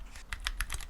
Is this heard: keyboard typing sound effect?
yes